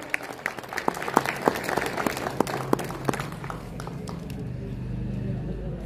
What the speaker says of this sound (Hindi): आपकी तरफ से मुझे तालियों की अपेक्षा है।